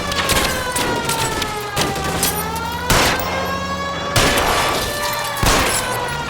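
Gunfire during a car chase in L.A. Noire, dense bursts of loud shots and impacts in steady clusters over a continuous roaring engine and a wailing siren.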